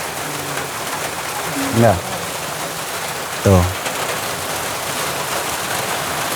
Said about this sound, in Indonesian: Jadi ini malah hujan.